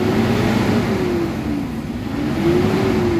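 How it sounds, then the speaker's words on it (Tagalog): Toyota Hilux engine with a throttle delay fault revs at medium pitch, a loud, close drone whose pitch sags slightly and then rises again. "So pakinggan nyo yung RPM saka yung tawag niyan, yung andar ng engine."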